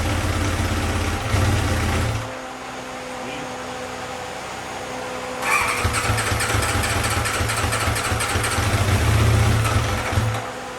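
A motorcycle being checked for a vacuum leak cranks and starts with a loud, low throbbing engine note, drops off briefly, then starts again and idles roughly, close and loud, with faint mechanical ticking.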